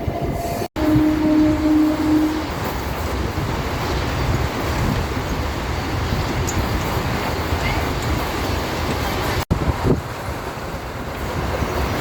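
A MEMU passenger train rolls along the rails with a loud, continuous rumble and wheel noise heard from inside the carriage, punctuated by a brief tone early on.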